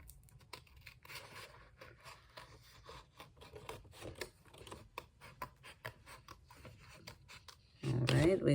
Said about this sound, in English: I'm going to gently cut the hearts nicely as I can